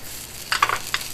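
Fried rice is tossed and toasted in a hot pan without a spatula. A few short, close sizzling bursts rise over a steady low frying hiss.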